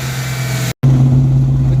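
The engine of a 94 Vert runs with a steady, loud low hum that cuts out briefly and returns slightly stronger, with someone talking over it.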